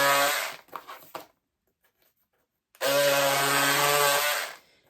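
A motorized cutting tool trims pieces of cardboard in two loud, buzzing runs, a short stuttering one and then a longer steady one after a silent gap, close up with no talking.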